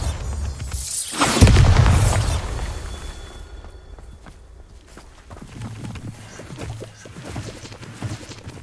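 A Bombarda explosion spell goes off in Hogwarts Legacy, a loud booming blast near the start with a deep rumble that fades into scattered thuds, light footsteps and ambient game noise.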